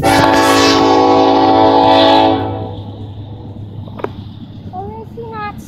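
A CSX freight train rolls past a crossing, its loud horn sounding with strong harmonic tones for about two seconds before fading into the rumble of the passing cars, with voices talking over it.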